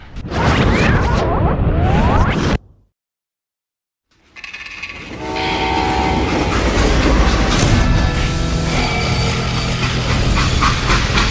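A freight train in the video game Call of Juarez: Gunslinger rumbles along steadily with a rhythmic rattle of wheels and cars, broken by a brief silent gap before the steady clatter resumes.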